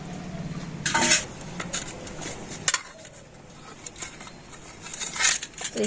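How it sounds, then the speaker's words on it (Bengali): A metal pan is rubbed with ghee, giving close scraping and light metallic clinks and rattles that come in scattered bursts, with no voices. "এই পাত্রটাকে আমি এখন ভালো করে ঘিটা লাগিয়ে দেবো"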